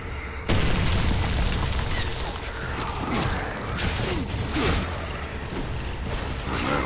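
A grenade blast in Gears of War 2 co-op play, a loud booming burst that opens sharply and rumbles on with crackling debris and game noise for several seconds.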